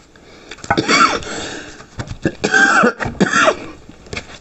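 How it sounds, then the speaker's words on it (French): Three harsh, close coughs in quick succession, each a rough burst from the throat, with short pauses between and quiet breathing around them. "Toujours cette toux."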